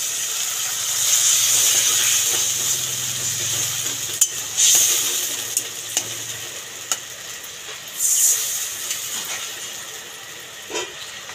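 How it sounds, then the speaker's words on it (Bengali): Water poured into frying onion masala in a pan, with a loud hissing sizzle and steam at first, then softer bubbling and several sharp clinks and scrapes of a stirring utensil. "এবার আমি পরিমাণ মতন জল দিয়ে দেবো।"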